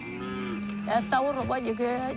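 Cattle in a herd low repeatedly as they return from grazing and watering in a river delta, several long moos overlapping close by against a steady outdoor background.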